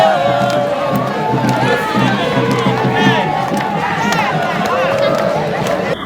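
A large crowd in Mossendjo greets a French visitor, cheering and shouting loudly and continuously up close, with overlapping voices and children's cries throughout.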